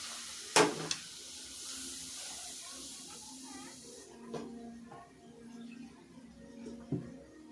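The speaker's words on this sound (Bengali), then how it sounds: "এর মধ্যে আমি দু বাটি জল দিয়ে দেবো" Water is poured into hot roasted semolina, which gives a sharp hiss and sizzle for about four seconds. The sound then drops away to quiet bubbling with a few faint clicks and taps from the pan.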